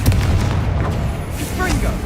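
A Confringo fire spell bursts in Hogwarts Legacy with a loud, dense blast and a rumbling boom that fill the short moment, with game effects around it.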